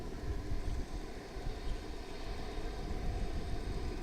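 An airliner taking off from runway 18 right at Dallas Fort Worth International Airport, a steady broad roar heard from a distance with wind buffeting the microphone throughout, no voices present.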